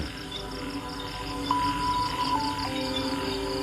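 Frogs and insects call in a rural Thai garden as rain approaches, a dense steady chorus of chirps and trills with a brief clear whistle-like tone partway through.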